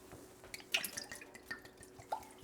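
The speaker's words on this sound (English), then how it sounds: "This is a bottle of tequila, half a bottle. Pouring it out." Tequila from a half-full bottle pours out in uneven splashes and drips, with brief bursts and small trickles over a quiet room and no talking.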